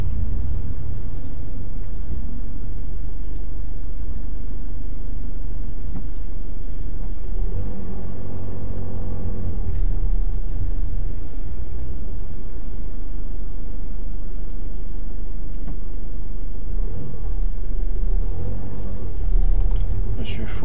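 Car driving through a U-turn during a mock driving test in Louviers, with a low steady engine rumble and road noise throughout, and people talking over it inside the cabin.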